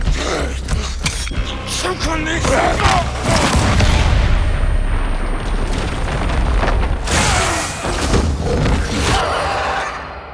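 A booming explosion followed by a rumbling, creaking cave-in in the video game Dying Light: The Beast, loud and sustained with heavy low rumble and debris noise throughout.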